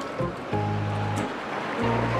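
Gentle ocean surf at Gesing beach, Gunungkidul, Yogyakarta, washing in as soft continuous waves, broadband and steady with slight swells, no voices.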